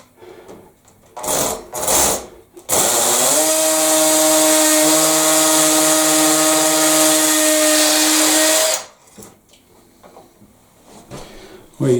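A power drill boring steadily through ceramic tile into a Victorian solid brick wall, a loud sustained whine lasting about six seconds, framed by quieter handling sounds and a voice before and after.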